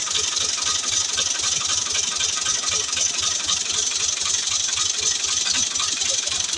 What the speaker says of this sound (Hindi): इसने ट्रैक्टर कर लिया है स्टार्ट।